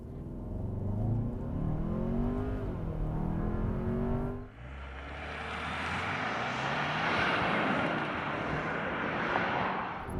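Engine note of a 2024 Hyundai Santa Fe with a 2.5-liter turbo, rising through gears from a standing start, then a shift into a broad, steady rushing roar of acceleration and road noise.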